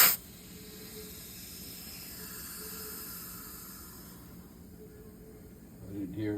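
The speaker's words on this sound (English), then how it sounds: "Grab the air compressor." Air compressor inflating a mountain bike tire, a continuous faint hiss of air running for several seconds, with a short louder burst at the start and a rattle near the end.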